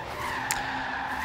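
Sustained tire squeal of a car drifting in Forza Horizon 3, a steady skidding whine over engine drone at night, continuous and moderately loud throughout.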